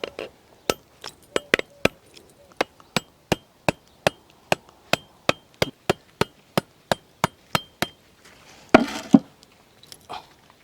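A thick ostrich egg shell is struck over and over to crack it, giving some twenty sharp, evenly spaced knocks close by, then a brief louder crunching break near the end.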